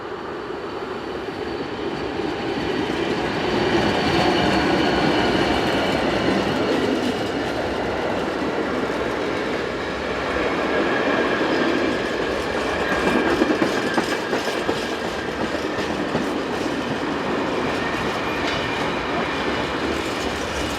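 Locomotive 7702 hauls a trip freight train from the southern docks near Dordrecht, passing at moderate distance with a continuous rolling rumble, steady wheel clatter and faint squeals; no voices.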